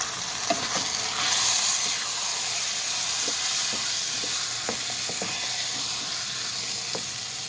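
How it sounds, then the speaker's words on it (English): Bacon corn chowder gets stirred in a pot, a continuous soft bubbling hiss with faint scraping of the spoon against the pot, close and steady. "Give that another stir."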